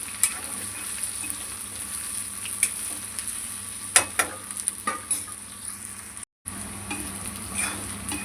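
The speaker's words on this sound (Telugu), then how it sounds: "పచ్చిమిర్చి కొద్దిసేపు మగ్గనిద్దాం" Green chillies fry in a pan with a faint, steady sizzle, punctuated by a few crisp pops and stirring clicks, and a brief dropout partway through.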